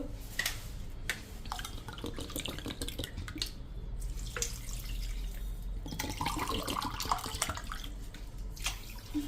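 Filtered water splashes and pours in short bursts into a pot for a homemade herbal hair dye, fairly quiet, with clinks and handling noises in between.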